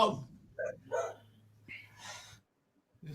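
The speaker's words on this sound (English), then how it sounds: "Denton, Go on, the dogs are out." Dogs bark in a few short, sharp bursts with brief pauses between them, fairly close by, over a low steady hum.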